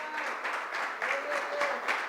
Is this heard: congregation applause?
yes